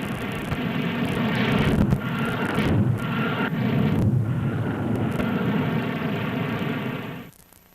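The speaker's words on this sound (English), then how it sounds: "the Snark test missile lands on skids, and a drogue parachute, similar to that used with the Regulus, is utilized for braking action" A Snark test missile touching down on skids, with a drogue parachute used for braking, gives a loud, sustained roaring rush of engine and wind noise. The noise holds steady for about seven seconds, then cuts off abruptly.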